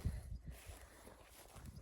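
Two 8-year-old draft horses clip-clop on hard ground, hooves landing in a low, irregular rhythm that's loudest at the start and then settles into softer steps.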